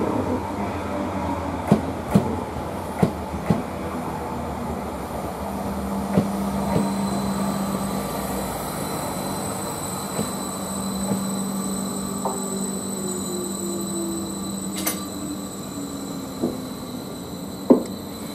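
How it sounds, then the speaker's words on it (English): A Class 745 express train pulls into Manningtree station, its steady rumble and rail hum carrying throughout, with sharp clicks of wheels over rail joints and a long, faint brake squeal. "which is the 12:19 from Lawrence to London Liverpool Street, which is arriving now at 12:26"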